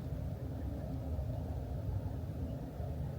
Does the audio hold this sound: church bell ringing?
no